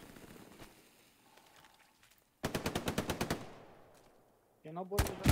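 Machine gun fire in the WWII shooter Hell Let Loose, a loud close burst of about ten rapid shots, then another burst at the end, with faint distant shots and battlefield noise before.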